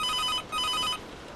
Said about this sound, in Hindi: घर की लैंडलाइन की घंटी तेज आवाज में बजती है